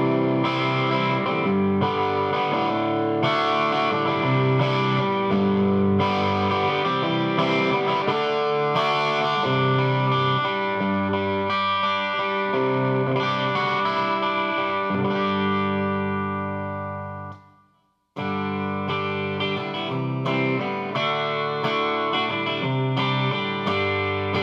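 Gabriel V33 guitar amp playing a textured clean tone with its tone control fully down and volume pulled back, a steady strummed guitar passage that cuts out briefly near the end before resuming.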